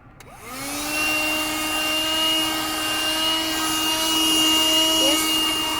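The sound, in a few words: Black & Decker car vacuum cleaner running without nozzle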